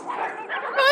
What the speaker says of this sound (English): They just keep barking! They've been barking for hours!